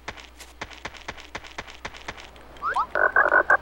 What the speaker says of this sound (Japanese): カエルゲット、こんなところにカエルがいると。